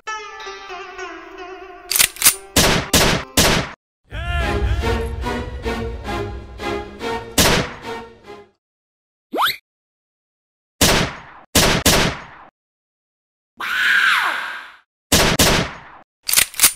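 Rapid bursts of gunfire in quick succession, sharp loud cracks in clusters, mixed with a tonal musical stretch and short gaps of silence.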